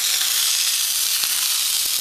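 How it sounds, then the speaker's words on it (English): Flame burning in a homemade survival stove built from a drilled Milo tin, a steady, loud, close hissing roar with a couple of faint ticks. "got a good flame, yes."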